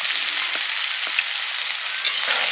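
Fish head and papaya pieces fry in a pan with a steady, close hiss and crackle, broken by a few soft stirring bumps and a brief louder spit near the end; no one speaks.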